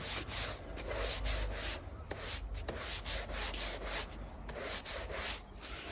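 A stiff brush scrubs outdoor porcelain tiles in fast, rhythmic back-and-forth strokes, a close, gritty rasping with brief pauses between bursts.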